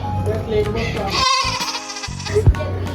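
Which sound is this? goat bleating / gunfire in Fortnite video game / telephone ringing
goat bleating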